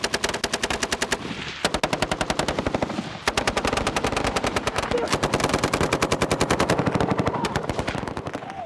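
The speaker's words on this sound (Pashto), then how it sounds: "هغه ځای ته چې ورسېدو نو پوځیانو ډزې شروع کړې" Soldiers firing guns in a war setting, rapid sustained bursts of automatic gunfire, loud and close, with short pauses between volleys and no talk.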